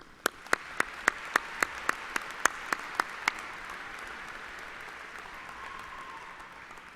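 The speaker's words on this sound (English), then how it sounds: "please join me in one final round of applause for this outstanding group of colleagues and students" Crowd applause at an MVCC college graduation ceremony in an arena, a steady wash of clapping with sharp regular loud claps standing out for the first few seconds, then fading to a softer sustained patter.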